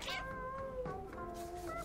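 A single drawn-out, wavering meow comes from the cat in the game Stray, close and clear with nothing else around it.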